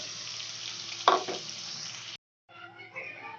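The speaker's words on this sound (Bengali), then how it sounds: "পনিরটা আমি একটু হালকা ফ্রাই করে নেব" Milk Mist paneer frying lightly in leftover oil in a pan, a soft, steady sizzle with a brief louder burst of crackle near the start, then a short silence before quieter sizzling resumes.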